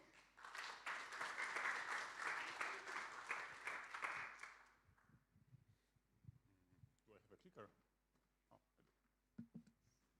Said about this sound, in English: give a big round of applause for Adam